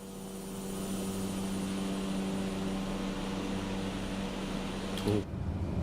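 A Cessna 208 B single-turboprop engine in Microsoft Flight Simulator drones steadily with a rising hum and a constant propeller tone, filling the whole clip at even loudness, with a brief click near the end.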